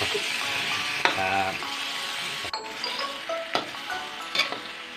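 Bacon stir-frying in a pan sizzles loudly as water is poured in, with the spatula clinking and scraping against the metal while someone talks over it.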